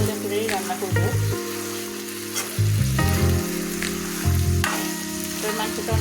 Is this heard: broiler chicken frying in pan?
yes